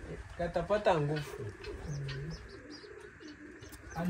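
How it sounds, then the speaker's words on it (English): Soft cooing and chirping from baby pigeons on a roof near a gypsum ceiling, close and intermittent, with people talking over the calls. "Guys, these are baby, baby pigeons."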